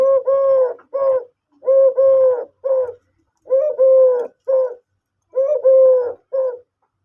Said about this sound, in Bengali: এই যে পাখিটা সারা ওই দেখেন সাইরা দিল